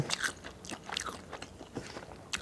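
Close, soft crunching bites and chewing of a spicy Thai salad with pork sausage, squid and oysters, eaten with shallots, in several quiet bursts.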